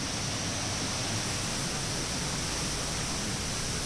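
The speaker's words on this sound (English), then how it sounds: "look at this cool little waterfall here" Small waterfall in New Hampshire giving a steady, broadband rushing hiss of falling water, even and continuous from start to finish with no voices.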